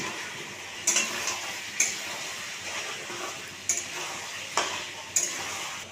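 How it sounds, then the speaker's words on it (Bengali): Potatoes go into a pan of frying meat with chili for a Bengali curry: a steady sizzle runs beneath several sharp clinks and scrapes of a spoon against the pan, spaced irregularly and fairly close. "এবার আলুগুলোকে দিয়ে দেবো।"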